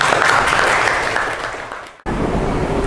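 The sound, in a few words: classroom applause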